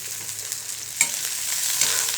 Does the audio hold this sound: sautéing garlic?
yes